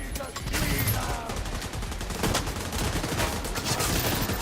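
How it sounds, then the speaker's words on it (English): Rapid automatic gunfire from a turret in The Division 2, Battle for Brooklyn, rattling steadily and loudly through the whole stretch with dense overlapping shots. "One hell of a turret."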